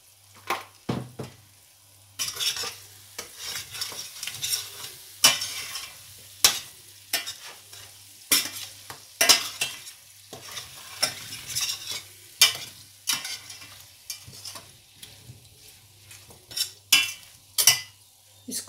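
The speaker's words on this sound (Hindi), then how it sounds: "इसको भूनेंगे हम 2 मिनट।" Chicken sizzles in a pan while a spatula scrapes and clanks against the metal in irregular, repeated strokes over a soft background frying hiss, close and without speech.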